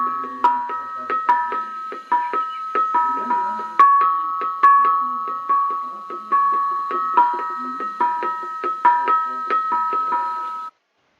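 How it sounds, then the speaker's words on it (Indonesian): Traditional Indonesian gong music: a steady, melodic run of bright, ringing metallic strikes, each note sustaining and overlapping the next. It plays loud and close, without talk. "Gong."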